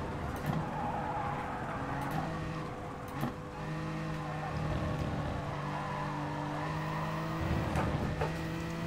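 Race car tires squealing and skidding under oversteer in Gran Turismo Sport, a steady engine drone underneath with sustained screeching tones that rise and fall across the run.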